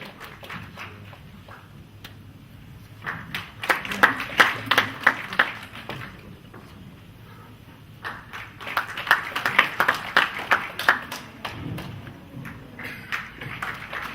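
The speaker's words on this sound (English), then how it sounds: "Let's continue clapping for them." Audience clapping at the launch of a countywide inclusive sanitation strategy in Nakuru, coming in two bursts of scattered, moderately loud claps separated by quieter room noise.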